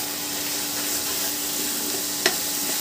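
Ground salt, turmeric, red chilli and cumin spices fry in a pan for a fish curry, giving a loud, continuous close sizzle and a brief scrape of stirring, with no one talking.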